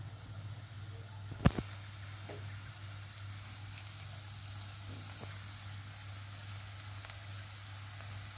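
An onion frying in hot oil, a soft, steady sizzle under a low, constant hum, broken by a couple of sharp clicks and a few faint pops.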